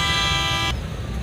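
Cars stuck in a traffic jam on the road from Data Sahib to Shahdara during a joint political rally: one steady, loud car horn blares for under a second, then stops, leaving a low engine and traffic rumble.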